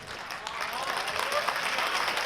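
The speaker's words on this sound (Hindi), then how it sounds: "एक बार दोनों हाथ उठाएं, जोरदार तालियां मोनिका दहलवी" A kavi sammelan audience claps for the poet Monika Dehlvi, a broad, fairly distant wash of applause that builds slightly and holds steady, with faint voices mixed in.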